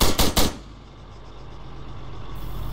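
Gunfire from a roadside ambush in Arma 3 on the Exile mod: a quick burst of three loud, close shots, followed by a low rumble that sounds like an engine idling.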